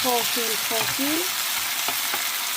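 Ratatouille vegetables with cherry tomatoes, a pinch of salt and Maggi or soy sauce sizzle loudly and steadily in a pan, while a brief voice speaks at the start.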